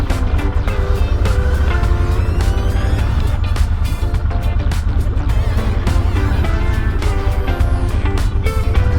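Motorbike engine running loud and close while riding and turning slowly on gravel, a steady droning rumble with shifting engine tones and constant wind and road noise throughout.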